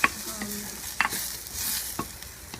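Red pepper powder being stirred in a pot for Korean sundubu jjigae, with repeated scraping and clinking spoon strokes roughly every half second over a low sizzle, close and without voices.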